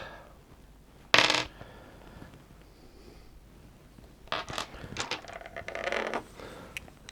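Polyhedral dice clatter onto a surface, one sharp rattle early on and then a longer burst of small tumbling clicks, close and fairly quiet.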